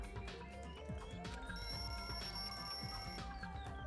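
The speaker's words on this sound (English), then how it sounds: "The lounge's wall clock alarm started ringing at 5:30." Wall clock alarm ringing in the lounge of the Danganronpa 2 video game, a sustained bright bell-like ring over busy game music, steady and loud for the whole stretch.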